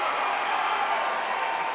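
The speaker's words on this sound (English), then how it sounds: "drawing an ovation from the Buchtel faithful" A home crowd of Buchtel Griffins fans gives a sustained ovation at a high school basketball playoff game, steady cheering and clapping filling the gym at an even level throughout.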